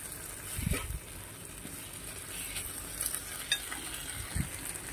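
Vegetables frying in a pan give a quiet, steady sizzle, broken by a few soft scraping knocks and clinks as a utensil stirs them, with no voices.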